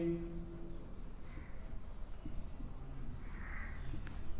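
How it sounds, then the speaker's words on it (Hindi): Marker or chalk scratching across a classroom board during a Class 10 maths lesson on real numbers, quiet and close, with faint low hum underneath and no talk. "तो इसके अंदर हम लिखेंगे"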